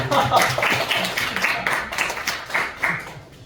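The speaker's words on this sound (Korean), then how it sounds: "박수 한번." A small congregation claps in welcome during a Korean church service, a short burst of uneven, fairly close hand claps that quickly thins out.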